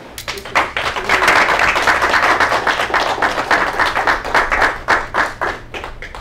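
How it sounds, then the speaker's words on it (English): An audience claps to welcome a speaker onto the stage, steady and fairly loud, with individual claps clearly audible throughout the wash before it thins toward the end. "If you can kindly put your hands together and let's welcome."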